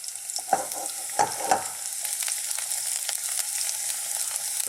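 Sliced garlic sizzles in hot oil over high heat, a steady bright hiss with a few sharp crackles and pops near the start, fairly close and with no talking.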